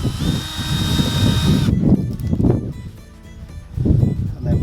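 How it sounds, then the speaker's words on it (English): A power drill boring holes in a wooden post for a raised garden bed on an allotment, a steady close motor whine with load changes and a brief slowdown before revving again. "drill a hole either side"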